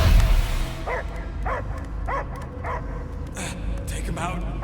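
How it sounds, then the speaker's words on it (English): A dog barks in the Guardians of the Galaxy video game on Knowhere, a steady series of about five evenly spaced barks over a low rumbling background. "I hear only barking"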